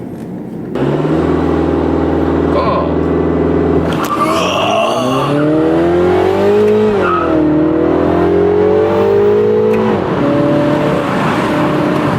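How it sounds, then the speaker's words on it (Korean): A Mini Cooper JCW's 2.0-litre engine starts up and revs loudly, the exhaust rising and falling in pitch through several throttle blips, close and unbroken. "시동 걸 때 그 배기음도 너무 훌륭하고 배기음이 좀 많이 좋아졌죠"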